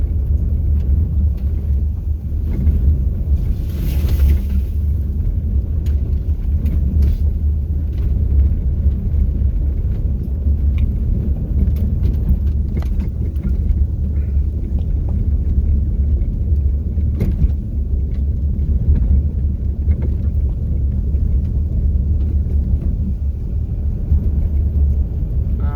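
A Hyundai Elantra drives at about 30 on a rough forest road, a loud steady low rumble of engine and tires with bumps and rattles throughout, no speech.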